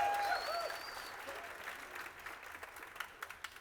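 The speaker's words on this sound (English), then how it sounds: "give a round of applause for that" Audience applause for a short film, a fairly soft wash of clapping that thins out into a few scattered, distinct claps toward the end.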